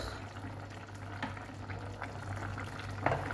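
Chicken blanquette with mushrooms simmers gently in a pot, giving a soft continuous bubbling with faint pops. It is quiet and steady, with no talking.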